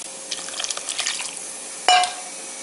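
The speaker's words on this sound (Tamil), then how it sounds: "கன்சிஸ்டன்சி பார்த்து தண்ணி ஆட் பண்ணிக்கலாம்" Water is poured into a pot of potato curry in a home kitchen, making soft splashing and trickling for about two seconds, then a brief sharper splash near the end.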